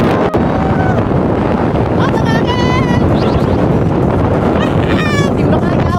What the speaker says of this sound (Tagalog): ay napakalakas ng hangin at dahil medyo mabilis na nga rin pala yung takbo ng sasakyan